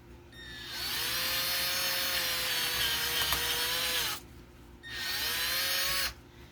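A power drill whines as it bores into wood in two bursts, a long run followed by a shorter one, close up with no talking.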